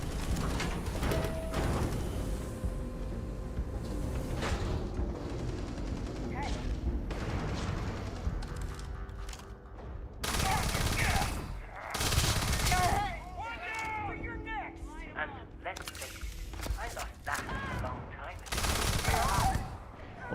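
Bursts of rapid automatic gunfire from a weapon in the video game Starfield, several sharp volleys separated by brief lulls with other game sounds between them.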